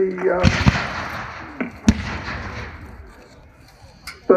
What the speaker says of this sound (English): they're using a mixture of Springfield rifled muskets and Enfield rifle muskets